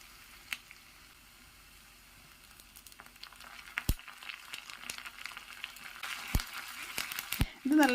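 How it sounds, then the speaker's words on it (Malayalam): Sliced shallots, dried red chillies and curry leaves frying in oil, a soft crackling sizzle with scattered sharp pops that grows busier and louder toward the end, close to the pan. "ഇതിലേക്ക് നമുക്ക് 3 ചുവന്നുള്ളി വട്ടത്തിലരിഞ്ഞതും 3 ഉണക്കമുളകും പിന്നെ കരിയാപ്പില ഇതിട്ട് കൊടുത്ത ശേഷം നമുക്ക് നല്ലതുപോലെ ഒന്ന് മൂപ്പിച്ചെടുക്കാമേ"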